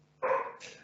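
A dog gives a single short, sharp bark up close, with a brief tonal yelp tail, standing out against a quiet room.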